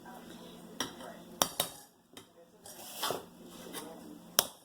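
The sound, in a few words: serving jasmine rice onto a plate with utensils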